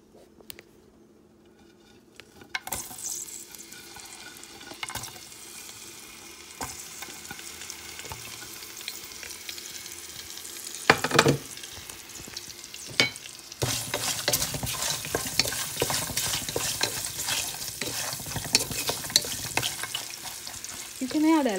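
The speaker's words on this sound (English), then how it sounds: "Now we add the onions." Onions frying and being stirred in a pan for a mixed chicken, prawn and mutton pulao, with a steady close sizzle that swells louder partway through and scraping stir strokes throughout.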